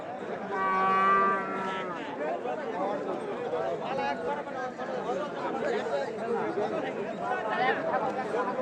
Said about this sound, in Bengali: ভাইয়ের এই গরু দুটো আমরা দেখছিলাম।